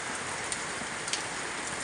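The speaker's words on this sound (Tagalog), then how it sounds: "ngayon, ang lakas ng ulan, grabe" Heavy rain pours down in a steady, dense hiss, loud and close, with no breaks across the short stretch.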